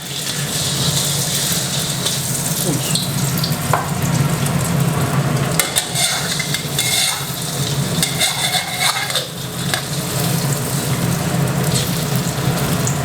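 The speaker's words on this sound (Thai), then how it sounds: "เสร็จแล้วก็ใส่ไข่ลงมาเจียวเลยครับ" Beaten eggs sizzling in hot oil for a Thai omelet with pork cracklings, a steady loud frying hiss with scraping and stirring noises over it, no talking.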